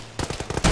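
Gunfire in the video game Arma during a ShackTac mission, a quick rapid burst of shots followed by a louder blast at the end.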